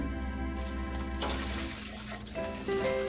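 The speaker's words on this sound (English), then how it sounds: "the next thing, Josiah, you pour in is the milk." Milk is poured into a bread machine bucket in a home kitchen, a continuous close liquid stream that splashes and gurgles, thinning out and shifting in pitch toward the end.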